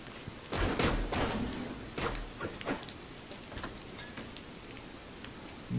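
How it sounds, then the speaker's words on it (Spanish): Rain in the video game Crossing Souls falls as a continuous patter, broken by a few heavy thuds and slam-like hits early on, then settling into steady, fairly quiet rainfall. "Me gusta mucho el efecto de la lluvia."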